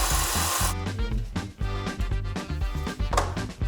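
A power drill bores through wood, close and loud, its motor surging and dipping as the bit bites and pauses in rough bursts.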